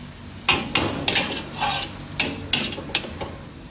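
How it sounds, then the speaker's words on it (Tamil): Food being sautéed in a pan, with a spoon scraping and knocking against the metal in uneven strokes over a soft background sizzle, close and moderately loud. "இந்த மாதிரி நல்லா வதக்கிடுங்க."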